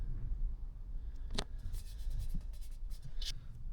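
White backing paper is peeled off a Honda Z50 motorcycle decal, giving soft scratchy rustles and a few brief sharper tearing bursts, close and quiet.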